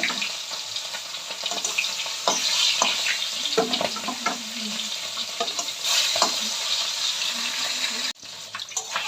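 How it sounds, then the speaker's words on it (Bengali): Grass carp pieces hit smoking-hot oil and fry with a loud, crackling sizzle, broken by sharp spits and pops, continuous and close up with no talking. "তেলটা আমার কিন্তু দারুণভাবে গরম হয়ে গেছে, ধোঁয়া বেরোচ্ছে। মাছগুলো আমি ছেড়ে দিলাম।"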